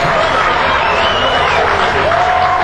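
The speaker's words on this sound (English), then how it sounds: "So now the fans are celebrating and cheering." A minor-league baseball crowd at Salem-Keizer roars steadily after a Vancouver home run in the ninth inning, loud continuous cheering and whooping filling the stadium.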